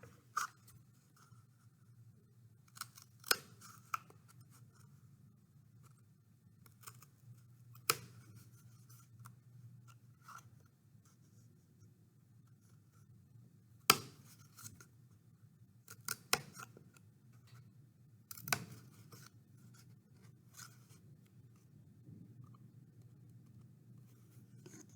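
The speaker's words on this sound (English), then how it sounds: "So then I'm going to switch out to my scissors, and I'm going to cut right to my dot," Scissors snip through paper while cutting a paper seed starter, making sparse, quiet, crisp cuts at irregular intervals against a faint low hum.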